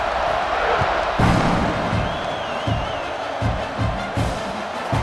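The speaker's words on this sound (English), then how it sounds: "this crowd is feeling themselves after that last drive" Stadium crowd in the EA Sports College Football 26 video game roars steadily during a kickoff after a touchdown drive, with a continuous wash of cheering and scattered louder surges.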